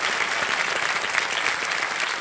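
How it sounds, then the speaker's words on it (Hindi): Studio audience on KBC breaking into steady, dense applause, a full sustained wash of clapping from many hands, loud and continuous with no voices on top. "तो इनका स्वागत एक बार कर देते हैं तालियों के साथ।"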